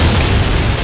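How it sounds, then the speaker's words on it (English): An explosion in the arcade shooter Time Crisis 4 (2006), a loud, dense, sustained boom filling the short moment without pause. "Watch out! Don't get caught in the explosion!"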